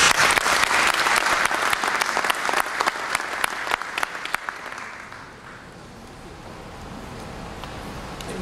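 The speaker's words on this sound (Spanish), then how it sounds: "Saludémosla también con un aplauso." Audience applause at a mayor's 2018 annual public accounts address in San Carlos: loud, dense clapping for about five seconds, then fading into a quieter hall.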